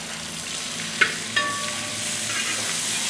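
Onions sautéing in a pan while mutton paya is being prepared, a steady close sizzle with a couple of sharp utensil knocks early on, then continuous frying hiss with no talk.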